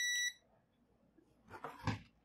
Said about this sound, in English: it was to be pressed, the buzzer will beep.